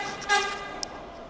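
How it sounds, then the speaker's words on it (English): A train horn sounds in the early morning, one short toot followed by a faint second blast at moderate distance, with no talk over it. "here's a train for you, first thing in the morning"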